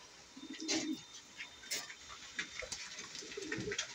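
Pigeons cooing in a fancier's loft, with two or three low, throaty coo bursts close to the microphone against a quiet background and no talking.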